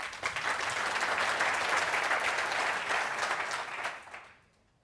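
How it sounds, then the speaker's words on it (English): An audience at a business-school keynote event gives a warm round of applause for the keynote speaker, dense steady clapping that holds for about four seconds and then fades out quickly. "A warm hand of applause, please."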